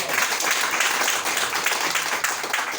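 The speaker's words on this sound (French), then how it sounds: "On applaudit." A crowd applauds at an evening political rally in a Nawa village: steady, dense clapping mixed with some cheering, moderately loud and continuous throughout.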